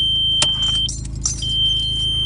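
Sharp electronic beeps from a turbo timer in an Audi A4 1.8T after the key is turned off, a few distinct high chirps over a low idling engine rumble.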